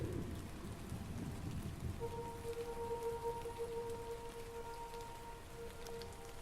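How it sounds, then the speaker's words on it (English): Steady rain falls in the video game Dreams, in Paradise 2, a Lovecraftian horror game, as a constant wash of hissing downpour with a low rumble of thunder at the start and a faint tonal hum underneath. "The rain lashed my face as I set off in pursuit."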